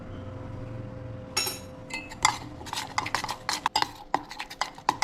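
Pakora batter with chopped chillies being stirred in a bowl: quiet hum at first, then a run of clinking, scraping spoon strokes against the bowl, irregular and close, without speech.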